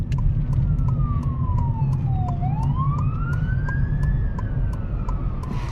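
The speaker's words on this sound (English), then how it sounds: "Ambulance coming by." An ambulance siren wails past on the road as heard from inside a 2006 Honda Civic LX, its pitch sweeping down then back up over steady road and engine rumble.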